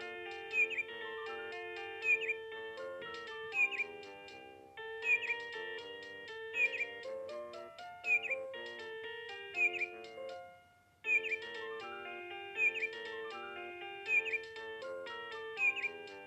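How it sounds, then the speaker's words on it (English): Electronic toy birdsong from a vintage Vtech Winnie the Pooh Disney musical activity centre: bright, repeating chirps in a steady looping pattern over a simple synthesized melody, with no talking. "That bird is singing a very happy song for us."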